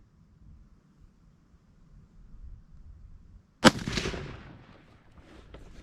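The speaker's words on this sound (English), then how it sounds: "Try to take a nice steady shot." A single sharp rifle report from a Henry Arms Long Ranger fired at an outdoor range rings out loud and close after a quiet stretch, its blast decaying into a lingering echo.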